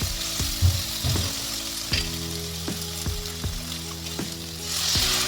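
Soybean koftas fry with chili flakes in a pan, giving a continuous sizzling hiss overlaid by a series of sharp knocks and scrapes from stirring, with a louder bubbling surge near the end.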